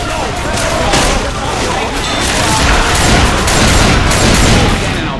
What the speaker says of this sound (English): let's stop shooting each other, please